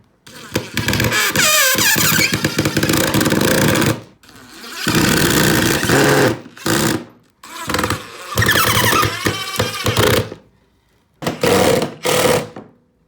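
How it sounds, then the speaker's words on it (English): A power driver sends screws into a wooden bat house in several loud bursts of whirring, each running a second or two and separated by short pauses. "now we're just gonna put in our screws on the other side"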